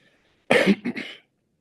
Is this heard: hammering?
no